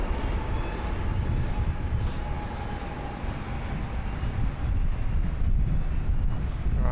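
A Qantas airliner arriving at Sydney Airport from Johannesburg gives a continuous, loud broadband jet roar with a faint whining tone, swelling slightly toward the end with no talk.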